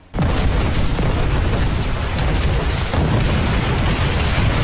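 Artillery pounds a beach in Call of Duty: World at War, a dense continuous roar of heavy explosions and rumbling booms that stays loud throughout with no voices.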